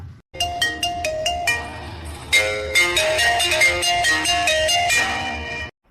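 A mobile phone plays a loud, bright melodic ringtone, its repeating electronic notes running steadily for several seconds before stopping abruptly.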